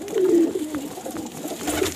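A large breeder pigeon coos in low, throaty, rolling notes, fairly close and clear against a soft background hiss, with a second quieter coo near the end.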